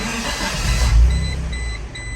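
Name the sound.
Geo Tracker engine idling after restart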